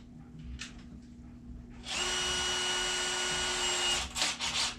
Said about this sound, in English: I'm going to pre-drill a couple of small holes